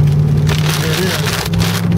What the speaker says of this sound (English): Wind and rain's coming.